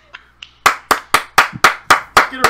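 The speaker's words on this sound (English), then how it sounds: "Let's get a round of applause." A small group claps in a steady, sharp rhythm of about eight or nine close, loud hand claps after a 1v1 game win, with a couple of faint taps before.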